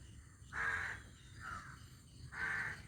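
Crows calling outdoors, three loud harsh caws with a softer one between, each about half a second long and spaced unevenly, with no talk.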